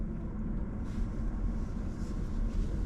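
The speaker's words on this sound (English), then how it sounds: "The only noise is the AC." Air conditioning blowing inside a BMW iX5 Hydrogen car, a steady low whoosh and hum of airflow filling the quiet cabin, constant with no other sounds.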